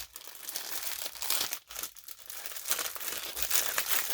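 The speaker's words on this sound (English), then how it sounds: "Sorry for the crinkling." Plastic packaging crinkles and rustles almost without pause during a craft supply haul, close and fairly loud, with short crunchy bursts and a brief lull midway.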